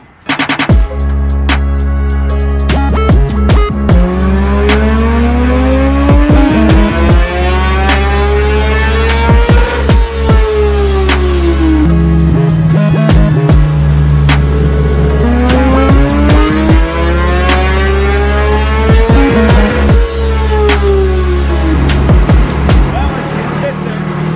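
A 2016 Kawasaki ZX-10R race-prepped motorcycle engine on a dyno, loud and sustained, sweeping up through the gears in two long full-throttle runs with a brief drop to idle between them.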